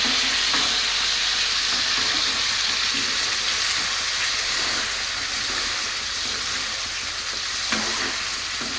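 Chicken pieces fry in hot oil for pickle, a loud, constant crackling sizzle with occasional stirring scrapes, heard close and alone without talk.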